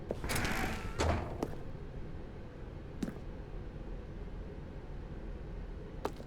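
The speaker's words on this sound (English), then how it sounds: "Stanley walked through the red door." A door opens in The Stanley Parable, a quiet mechanical creak and clunk near the start followed by a few faint thumps over a low steady background hum, no speech.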